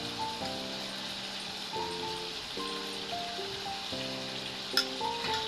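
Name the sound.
yogurt added to biryani masala, sizzling in pan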